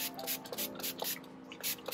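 A spray bottle misting fertilizer over a group of indoor Hoya houseplants, giving a series of short, soft hissing puffs in an uneven rhythm, close and quiet with no talking.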